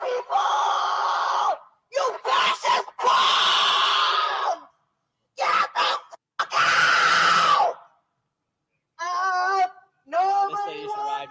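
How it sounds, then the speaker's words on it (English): A woman at a protest, just after a police arrest, screams through a megaphone in several loud, harsh bursts separated by short silences. The last stretch turns into rough amplified yelling. "she is screaming in the megaphone"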